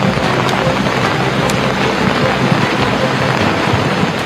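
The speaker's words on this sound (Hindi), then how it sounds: "मलबा समेटे आगे बढ़ रहे बाढ़ के पानी को देखिए, ये अपनी ताकत दिखा रहा है" Flood water surges through the mountain town of Ruidoso, New Mexico, carrying debris, a steady broad roar of churning water with a few faint knocks and some wind-like rumble.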